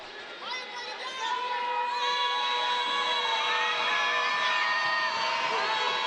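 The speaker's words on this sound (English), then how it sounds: "As the crowd gets involved." Crowd cheering and shouting, with high youthful voices, at a girls' basketball championship game in a gym, swelling loudly after the first second and staying sustained to the end.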